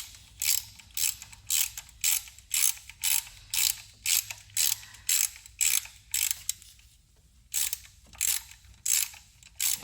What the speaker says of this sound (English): it looks like a Torx 25 will be the right tool for it